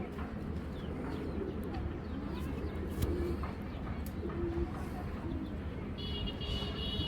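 A large female pigeon coos softly at moderate distance, the low repeated calls sitting within steady background noise and occasional other bird sounds.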